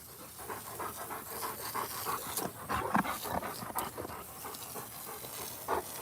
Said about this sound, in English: my dogs, they're real active today